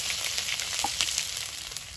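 Whole fennel seeds, cumin, chopped green chilli and ginger frying in hot oil in a wok, a steady close sizzle with small crackles and a light stir, no talk.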